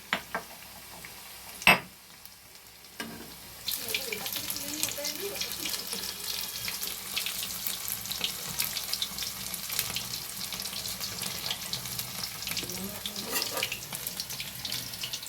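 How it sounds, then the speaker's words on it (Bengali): Chicken fingers deep frying in hot oil, a steady dense crackling sizzle that starts after a few quiet seconds with a brief clatter, then continues evenly and close. "আশা করছি ভালোভাবেই ভাজাটা হয়ে যাবে।"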